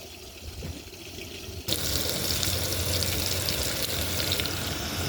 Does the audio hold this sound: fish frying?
yes